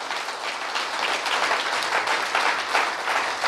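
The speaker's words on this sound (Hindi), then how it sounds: "सारे लोगों के लिए मैं चाहूंगा एक बार जबरदस्त और जोरदार तालियां होनी चाहिए।" A crowd at a leaders' development training session claps vigorously in a continuous, dense burst of applause with no pause, fairly loud and even throughout.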